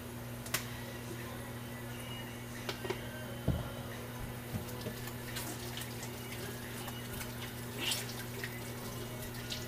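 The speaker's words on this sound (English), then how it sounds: "Let's give our hands a wash" Hands being washed under a running kitchen tap. The water makes a faint, steady hiss, with small splashes and clicks scattered throughout.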